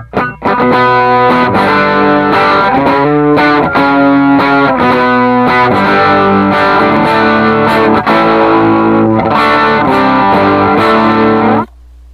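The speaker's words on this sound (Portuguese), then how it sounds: "esse aqui já é meu som do drive" Electric guitar crunch tone from a Helix HX Stomp Morning Glory drive, loud and sustained with ringing distorted chords and picked strums that carry through about eleven seconds before stopping abruptly, with no voice over it.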